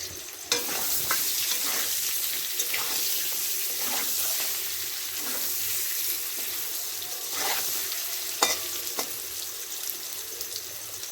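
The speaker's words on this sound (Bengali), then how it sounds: "এই লাল লাল করে আলুগুলো ভাজা হয়ে গেছে, এবার তুলে নেব" Potatoes frying in hot oil for homemade biryani, a continuous dense sizzle and crackle with a few scrapes of stirring, steady and close throughout.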